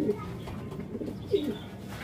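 A racing pigeon with pearl eyes and pencil markings gives soft low coos, two short bursts near the start and again past the middle, close by with faint background noise.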